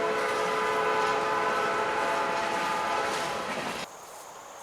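A freight train rolls along the railroad track close by, a loud sustained rumble with squealing, tonal wheel noise that suddenly drops away near the end.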